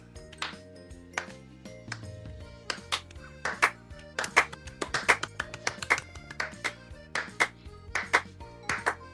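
Sharp hand claps land in a steady rhythm over soft background music during a tabletop HeroQuest game session, each clap a crisp, close snap repeating at a regular pace.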